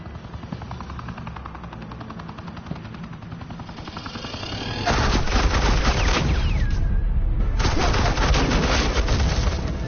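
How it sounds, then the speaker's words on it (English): Suppressing gunfire in a Batman video game, a dense continuous rattle of automatic weapons that grows louder and fuller midway and keeps going steadily to the end. "Suppressing fire."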